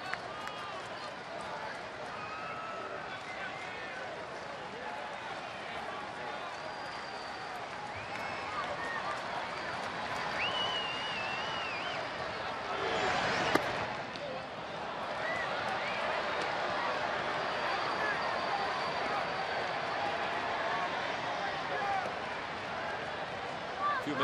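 Baseball stadium crowd at a Pittsburgh at Philadelphia game, a broad sustained roar of cheering that swells midway with a sharp burst, under a broadcaster's ongoing commentary.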